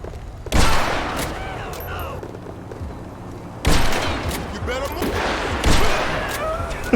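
Pistol gunfire in GTA V on FiveM cracks out in three loud, separated volleys, each a sharp burst with echoing tails, over a steady background of game ambience.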